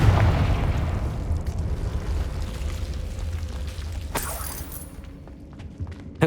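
A Confringo blasting spell from Hogwarts Legacy detonates in a heavy rumbling explosion that fades out, followed by a sharp crack and scattered debris ticks.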